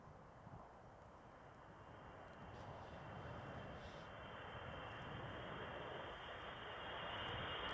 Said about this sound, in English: Are we in a plane at the moment?